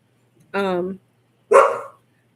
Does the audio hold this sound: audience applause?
no